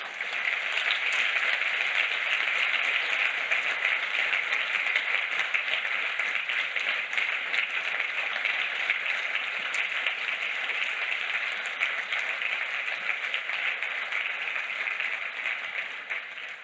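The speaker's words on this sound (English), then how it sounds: "So let's get a first round of applause for all of these amazing people so far." A large audience at the Ubuntu Summit 2023 claps in sustained, even applause for over sixteen seconds, a steady wash of hands in a hall with no voices, fading slightly at the very end.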